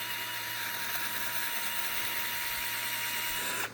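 An electric drill grinds steadily into a hard meteorite, a continuous close-up mechanical whine and rasp that holds level throughout before cutting off abruptly at the end.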